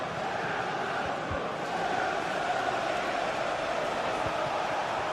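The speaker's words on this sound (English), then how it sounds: "just listen to this crowd" A steady, dense roar of a stadium crowd in a football video game, a continuous broad wash of massed voices holding at an even level throughout.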